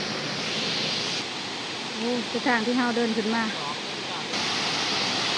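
Constant rushing roar of a waterfall along a mountain trail near Mae Kampong village, with a person speaking briefly over the steady water noise in the middle.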